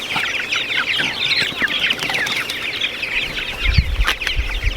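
Chickens cluck and chatter on a farm during morning feeding, a busy overlapping flock nearby with a few low thumps near the end.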